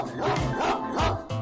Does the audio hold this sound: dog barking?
yes